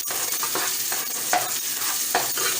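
Onions frying in a pan for a saucy leftover turkey dish give a steady close sizzle, with a few sharper spatula scrapes and stirs breaking through the hiss.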